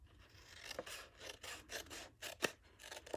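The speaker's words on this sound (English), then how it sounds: "So let me find my paper snips, and I'm going to cut up on the score line." Paper snips cut cardstock along a score line, with a steady series of quiet, close, crisp snips and slicing strokes at an even rhythm.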